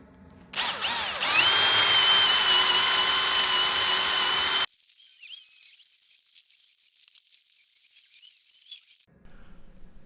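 A power drill bites into wood while working on a garden bench, spinning up briefly and then whining at a steady high pitch for about four seconds before cutting off, leaving quiet room noise.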